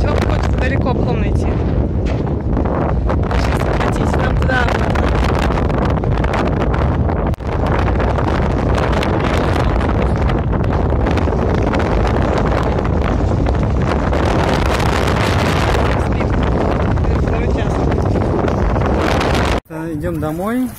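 Strong desert wind buffets the microphone in a steady, loud roar throughout, with gusty rumbling and rustle, cutting off briefly near the end.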